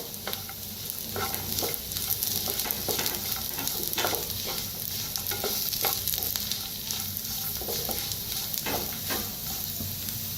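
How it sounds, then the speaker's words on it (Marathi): Sesame and cumin seeds dry-roasting in a pan on a gas stove for a brinjal-potato dish, with a steady crackling sizzle broken by repeated scraping stir strokes. Nobody speaks. "आता मिक्स करून ह्याला भाजून घेऊया"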